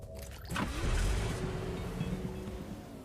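A car in the video game Cyber Hunter, its engine a low steady drone that swells after a brief start and holds at a moderate, even level.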